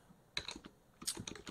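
Typing on a computer keyboard during a Linux desktop install: two short bursts of quick, close key clicks separated by a brief pause, fairly quiet with no speech.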